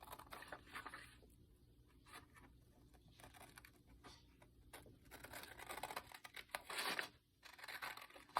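Paper journal page being trimmed down by hand, soft tearing and crinkling rustles spread through the clip, with a sharper louder burst near the end, fairly close and quiet.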